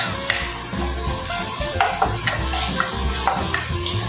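Aromatics sauté in a hot pan for kare-kare sauce, a continuous close sizzle broken by scraping stirs and light utensil knocks, fairly loud, with no one speaking.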